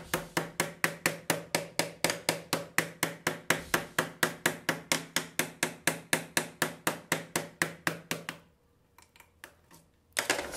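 A knife scrapes the back of a Samsung Galaxy Note 7 phone in quick, evenly spaced strokes, about four per second, then stops briefly before scraping resumes.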